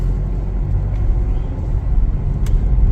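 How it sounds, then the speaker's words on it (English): A 2026 Chevrolet Trax 1RS out on a test drive gives a low, steady road-and-engine rumble heard from inside the cabin, with no talk. "We're going to take this one for a test drive"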